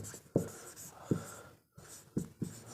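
Chalk or marker strokes on a board during a Class 12 organic chemistry lesson on basicity, a few sharp scratchy taps and short scrawls spaced across a quiet room, with no talk.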